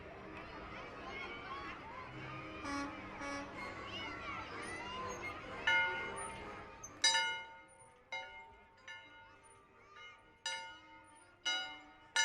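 A bell mounted on the back of a truck in a small-town summer parade rings in regular, clanging strikes, with crowd noise and chatter beneath.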